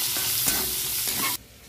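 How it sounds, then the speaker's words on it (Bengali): Onion, whole cumin and dried chillies frying in mustard oil give a dense, steady sizzle up close, with a couple of soft stirring scrapes before the sound drops away abruptly near the end. "পেঁয়াজ, গোটা জিরে, শুকনো লঙ্কাটা ভেজে নিয়েছি"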